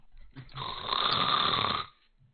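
A voice imitates snoring, mimicking an armored sleeper: a single drawn-out, rasping snore that builds over about a second and a half, close and fairly loud, then cuts off.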